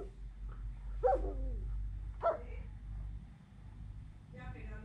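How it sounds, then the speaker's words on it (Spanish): A recorded dog barks through an Alexa smart speaker, two separate short barks about a second apart over a low hum, fairly faint, then a softer sound at the end. "Así suena un perro."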